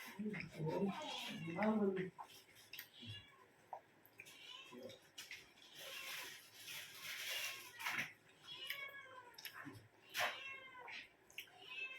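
A cat meows repeatedly, several drawn-out cries spaced through the clip, fairly close, with a few soft background rustles.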